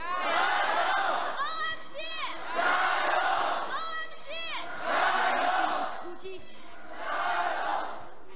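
A large crowd at a League of Legends pro match in the LPL roars in repeated swelling waves of cheering and chanting, four loud surges separated by brief lulls.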